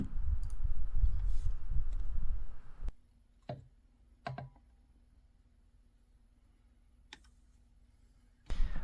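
Small screws being worked loose from the stock hardware of an 8mm Mauser Carcano rifle, a few sharp metallic clicks and scrapes spaced apart, close and fairly quiet, after a stretch of louder handling noise.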